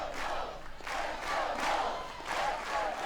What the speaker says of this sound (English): Crowd comes to their feet in this, the 13th meeting between Florida and Florida State